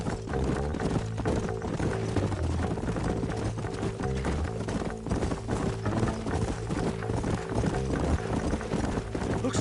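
Horses' hooves clip-clop steadily in the Red Dead Redemption video game, a continuous rhythmic trot at close range, layered with a dense, loud game soundscape and no speech.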